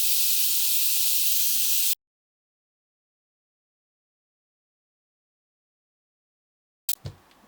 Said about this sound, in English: using the air from the airbrush just to dry everything off